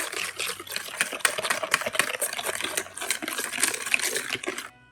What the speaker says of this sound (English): 1/2 teaspoon of peppermint extract, a teaspoon of vanilla extract, and we're going to whisk that together.